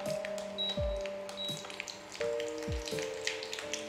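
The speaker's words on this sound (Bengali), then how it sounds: "এবার আমি আস্তে করে মাছ দিয়ে নিচ্ছি। 2টো করে মাছ ভাজবো।" Two pomfret fish coated in a mango pickle marinade fry quietly in a pan, with soft crackling pops and a low, uneven sizzle close by.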